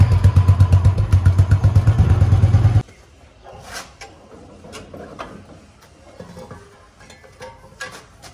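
A Royal Enfield Bullet motorcycle with its stock exhaust idles in a close, loud, steady thump for about three seconds, then cuts off abruptly, leaving quieter clicks and faint background noise.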